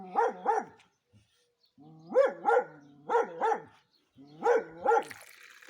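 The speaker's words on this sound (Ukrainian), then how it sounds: "трішки заважає нам собака" A dog barks in a garden, four paired bursts of two barks each with short pauses between, fairly close and clear, with no talk over them.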